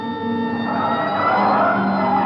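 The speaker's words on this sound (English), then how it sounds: "Hit the siren." A police car siren in an old-time radio drama wails steadily and loudly throughout, a continuous rising and falling tone over faint engine rumble, with no voices.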